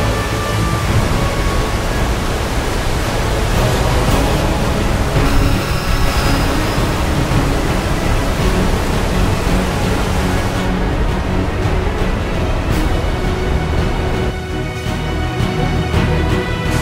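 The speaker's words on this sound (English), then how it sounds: "Important people, this is Mili Waterfalls." Mili Waterfalls in Ghana, West Africa's tallest waterfall, pours with a loud, steady roar of rushing water that fills the whole clip without a break.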